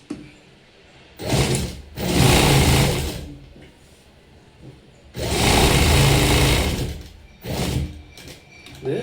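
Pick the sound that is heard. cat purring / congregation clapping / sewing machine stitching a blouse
sewing machine stitching a blouse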